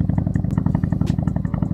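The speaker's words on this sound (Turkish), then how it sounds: "Şimdi arkadaşlar mikrofonu egzoza takalım." A Nevada 250 motorcycle exhaust recorded with the microphone mounted right on the pipe, giving a loud, close, steady rapid-pulse idle rumble with clattering mechanical ticks throughout.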